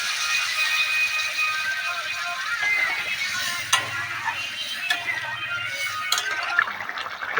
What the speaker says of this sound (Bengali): জল দেওয়া হচ্ছে মাংসতে।